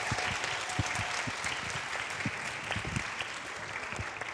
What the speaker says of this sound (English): Can I get a round of applause for this fabulous panel?